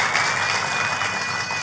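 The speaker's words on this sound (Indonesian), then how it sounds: "Tepuk tangannya boleh yang paling meriah buat Tuhan kita" A church congregation claps together in a steady, dense burst, loud and close, with a sustained tone running beneath the applause.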